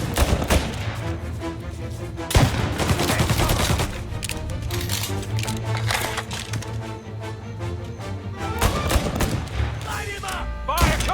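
Sustained gunfire in the video game Mafia Definitive Edition, dense bursts of shots layered over a steady music score, with voices shouting through the firefight and louder volleys near the start and end.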